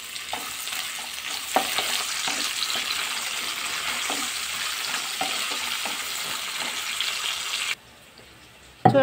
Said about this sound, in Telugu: ఇలా సన్నగా తరుక్కున్న ఉల్లిపాయలు వేసుకుని ఇవి కూడా వేయించుకోవాలి